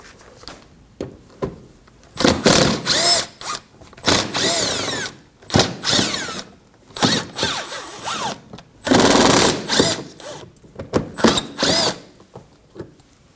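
A power tool whirs in repeated short bursts, spinning out screws from the wheel liner of a 2015-2024 Ford Edge; each burst is loud and close, separated by brief pauses.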